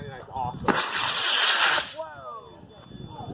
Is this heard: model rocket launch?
yes